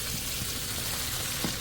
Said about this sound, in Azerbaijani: Üzərinə bitki yağı tökürük.